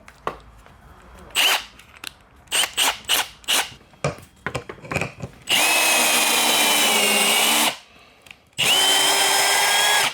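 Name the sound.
power drill spinning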